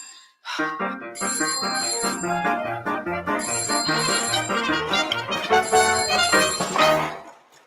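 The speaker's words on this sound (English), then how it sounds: "I don't want another number ruined by a ringing telephone" A telephone's bright, repeating electronic ring sounds continuously for several seconds during a live stage musical performance, loud and close, in a quick rhythmic melodic pattern.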